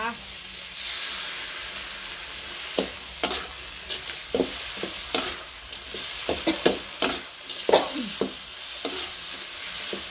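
Holy basil is stir-fried in a hot pan with oyster sauce and light soy sauce, giving a steady sizzle broken by repeated scraping clatters of a spatula tossing the food, close and moderately loud.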